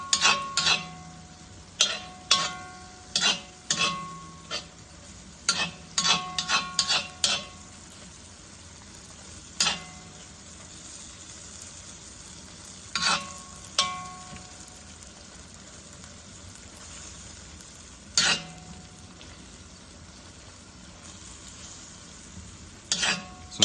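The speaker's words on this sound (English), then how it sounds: "push them against the pan and let them hang out for a minute to let it sizzle against the pan" Noodles stir-frying in a pan with green curry beef and vegetables give a soft steady sizzle, broken by frequent sharp clinks and scrapes of a utensil against the pan, fairly quiet and without speech.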